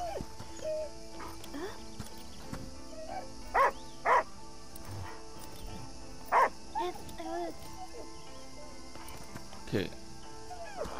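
A small dog in the video game Last Day of June gives a few short yips and barks, scattered and moderately loud over quiet game ambience, with someone talking at times.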